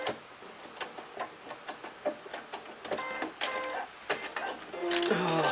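A domestic sewing machine stitches around the edge of a fabric sunflower trivet, its rapid needle ticks running in short, uneven bursts close by, with brief pauses and a faster, denser run at the end.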